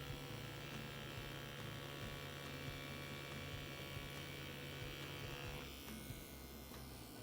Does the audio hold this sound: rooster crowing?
no